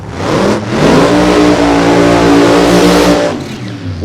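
A drag race car at Sonoma launches and accelerates hard, its engine roaring loud and close with a sustained high-revving blare for about three seconds before cutting off abruptly.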